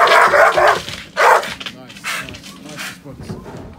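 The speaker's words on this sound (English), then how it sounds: "The dog's been told to guard. And he's guarding." A protection dog guarding on command barks loudly and close, several sharp barks in quick bursts with a voice mixed in among them.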